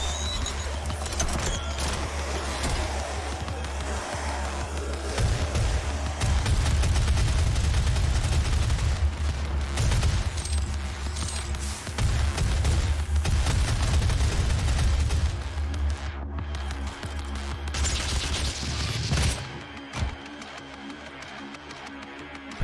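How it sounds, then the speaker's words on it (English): Sustained heavy automatic gunfire from a mobile turret weapon in DOOM 2016, a dense continuous barrage with booming low end and crashing effects, loud and close, easing off near the end. "To transform the weapon barrels into a mobile turret."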